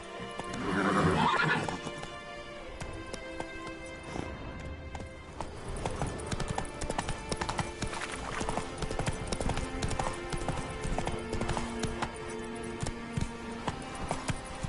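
Roach the horse neighs and whinnies loudly, followed by steady clip-clop hoofbeats as the horse runs through the game world of The Witcher 3, with faint ambient music beneath.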